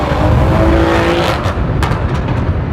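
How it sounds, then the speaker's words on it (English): A BMW M340i in sport mode accelerates on a road toward the ghats, its engine a loud, close, rising roar with a few sharp bursts near the end and no voices. "Pop the M340i into sports mode and that plushy ride and mellow engine note gets thrown out of the window"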